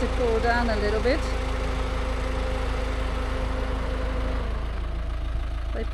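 A car engine idles steadily on a rough mountain pass between Argentina and Chile, a low continuous rumble running throughout with a faint tonal hum, while someone talks briefly over it near the start.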